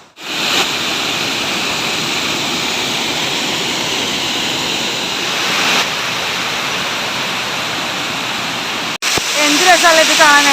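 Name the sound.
large waterfall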